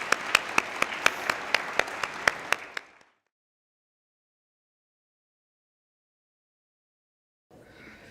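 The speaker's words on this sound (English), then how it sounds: "Now, let's all applaud both candidates." An audience at a county candidates' forum claps for both candidates, a burst of applause with a few sharp individual claps standing out, fading after about three seconds into silence before faint room noise returns.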